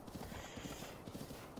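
Horse hooves clip-clop in Zelda: Breath of the Wild, a quick run of steady hoofbeats, moderately loud, under game ambience with no talk.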